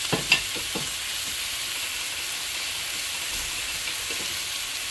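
Carrots for bihon stir-fried in a hot pan with a steady hiss and sizzle throughout, plus a few brief scraping stir strokes near the start.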